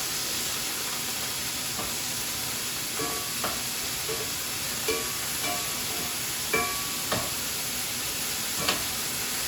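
Small pieces of Cajun chicken and shrimp fry in a cast iron skillet, giving a steady close sizzle with occasional stirring clicks and scrapes, and no voices.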